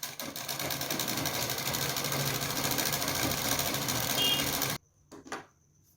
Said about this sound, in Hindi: तो हमने यहाँ पर अभी किनारे पर ही सिलाई लगा देते हैं।